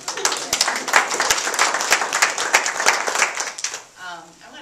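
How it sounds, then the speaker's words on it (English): Audience applause for museum staff at a Grand Teton National Park art exhibition event, a dense burst of clapping from a room of people that fades out near the end. "Another round of applause for the museum staff for putting all this together."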